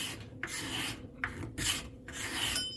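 Card scraper with a filed burr rasping across a piece of cherry wood, steady back-and-forth strokes in a close, even rhythm with brief pauses between passes.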